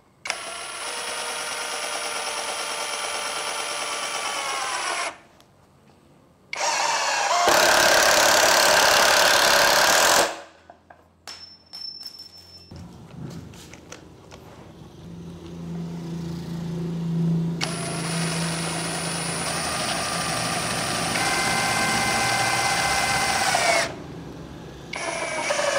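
A Keelat brushless cordless impact wrench drives a roughly 3-inch screw in several loud, sustained bursts of whirring and rapid hammering, separated by short pauses, close up with no talking.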